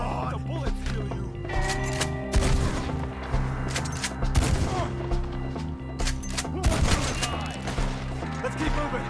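Red Dead Redemption 2 gunfire rattles in repeated bursts of overlapping shots, with loud irregular volleys over shouting game characters, horses and background action.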